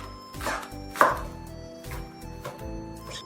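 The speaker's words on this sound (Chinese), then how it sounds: "切点葱花" A knife chops scallions on a board in a handful of separate, crisp strikes spaced roughly half a second apart, close and fairly loud against a soft hum, with no voices.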